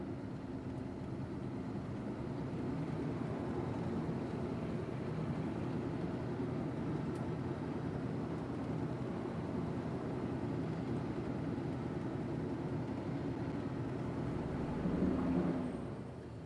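An old International truck with a Cummins diesel engine, revived after sitting more than seven years, idles steadily with a low continuous rumble, close and unbroken, swelling slightly near the end.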